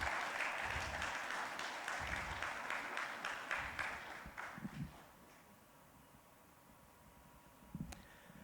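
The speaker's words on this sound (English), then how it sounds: "clap for him again." Audience applause at a plenary session of an aviation ministers' council meeting, broad clapping for several seconds that thins out and fades, leaving low room noise with a few late claps.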